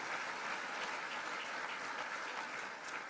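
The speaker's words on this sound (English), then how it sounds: "Would we give one more round of applause to Darrell Jones, Donnie Reynolds, and Wallace Nash?" A luncheon crowd at a community coalition event claps as one continuous, even round of applause, moderately distant and sustained for the whole few seconds with no voices over it.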